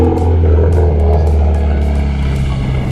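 A loud car drives past on a street during urban car spotting, its heavy low engine rumble steady and close throughout with no talk.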